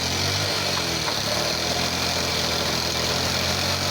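A farm tractor engine running on farmland in Gadchiroli district while gears are shifted, producing a steady, loud, close mechanical drone with a constant vibrating rumble throughout.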